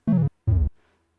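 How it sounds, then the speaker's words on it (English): A Pico-8 game death effect plays as two short buzzy square-tone notes stepping downward, the second lower, then a faint dampened tail fading out. "the next thing I knew I wanted was sort of a death noise"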